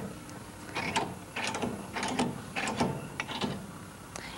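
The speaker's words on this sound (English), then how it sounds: "loosen the dynamometer pedestal" Cybex 6000 dynamometer pedestal mechanism being loosened, giving a series of close, dry mechanical clicks and ratcheting bursts in irregular rhythm, with no talking.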